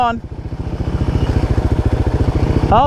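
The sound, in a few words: motorcycle engine running with its muffler underwater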